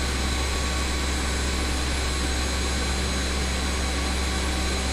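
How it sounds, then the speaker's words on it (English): Jet engines of a BAe 146 airliner in Microsoft Flight Simulator 2020 drone steadily during pushback, a loud, unbroken whine and roar with a steady tonal hum and no voices. "We started our engines on the stand on purpose"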